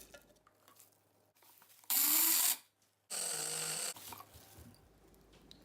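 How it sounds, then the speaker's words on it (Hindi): Spice grinder whirring through cooled roasted whole spices for beef pasanday masala, two loud bursts of about half a second and one second with a pause between, alone with no talk. "इनको ठंडा करके ग्राइंड कर लेते हैं"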